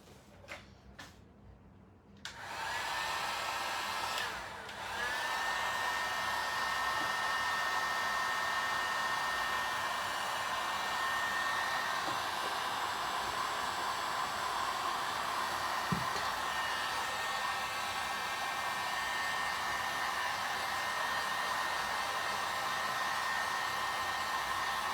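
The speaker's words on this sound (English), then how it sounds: "this heat gun, when you dry it like this, it really takes out a lot of the" A heat gun blows steadily and loudly over a sugar decoration for a door hanger. It starts with a few clicks and a brief start-up, then settles into a constant airy roar with a short dip, running alone without talk.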